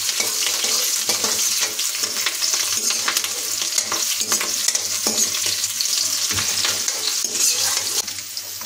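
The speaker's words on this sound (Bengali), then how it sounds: "এটাকে ভালোভাবে হাত দিয়ে নেড়ে নেব" Chopped green chillies and garlic fry in a pan while being stirred. Close, continuous sizzling and crackling runs throughout, with irregular scraping strokes and no speech.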